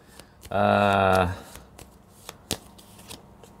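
Tarot cards are shuffled in one loud riffling burst close by, then dealt with a few soft, scattered taps and slaps as they land on a table.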